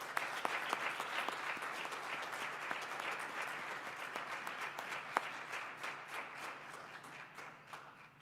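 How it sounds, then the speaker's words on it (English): An audience at a scholarship award ceremony gives a round of applause, a soft, distant wash of many hands clapping with a few sharper individual claps standing out, continuing for several seconds. "Please give Francesca a round of applause."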